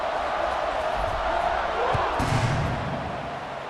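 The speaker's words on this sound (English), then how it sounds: "this crowd now ready to get behind them" A stadium crowd in the EA Sports College Football 26 video game roars steadily at a Texas Tech versus Arkansas matchup, with a couple of dull thumps midway and the noise easing toward the end.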